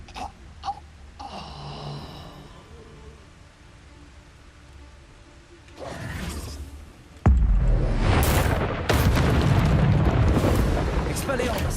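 Expulso spell going off in the Hogwarts Legacy video game: quiet moments with faint tones, then a sudden loud boom that opens into a long crackling, rumbling blast that keeps going to the end.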